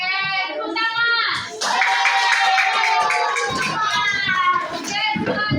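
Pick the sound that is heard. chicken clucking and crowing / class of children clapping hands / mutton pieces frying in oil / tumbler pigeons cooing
class of children clapping hands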